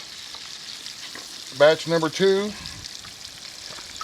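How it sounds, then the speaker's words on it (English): Chicken fries in oil with a continuous soft sizzle, while someone speaks briefly partway through. "we're going to be busy for a few minutes frying chicken"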